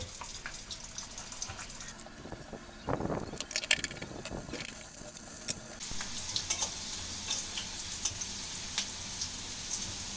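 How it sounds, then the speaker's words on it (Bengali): Chopped onion and green chilli frying in hot oil in a kadhai, a steady sizzle throughout with a louder burst of stirring and spattering near the start, close and fairly quiet with no talking. "একটু পেঁয়াজ কুচি আর একটু কাঁচা ঝাল একসঙ্গে ভেজে নেব"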